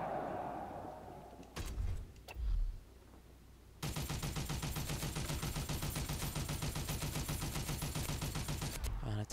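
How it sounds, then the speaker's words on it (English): Machine gun fire in the video game Toy Soldiers Cold War: after a couple of short bursts and thuds, a sustained rapid stream of loud gunfire continues steadily to the end. "Well, let's put a machine gun there."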